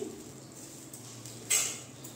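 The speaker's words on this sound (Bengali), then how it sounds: "এই যে ঢাকনাটা আমি তুলে দিচ্ছি।" A metal lid lifted off a cooking pot, giving one short clink over a low steady kitchen hum.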